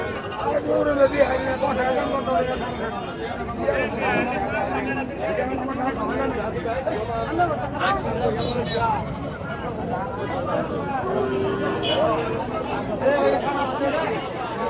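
Goats bleat repeatedly amid a busy crowd at the Muktagacha goat market, with steady chatter and voices talking nearby throughout.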